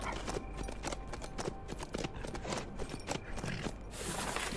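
Horse hooves clop at a walking pace in the HumanitZ survival game, a steady run of soft, moderately close steps set against continuous game ambience with a brief brighter hiss near the end.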